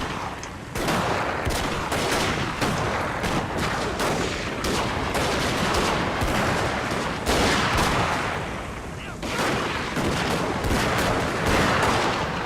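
Dense, continuous musket and rifle volleys in a rainy castle siege battle in Shogun 2 Total War, loud overlapping cracks with no pauses and a brief dip before the firing swells again.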